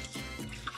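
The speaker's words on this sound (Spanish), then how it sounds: "vamos a lavarlo con agua y sal. En el chorro de agua vamos a poner un puñado de sal" Octopus rinsed with salt under a running kitchen tap, a steady close splashing and trickling of water with soft drips.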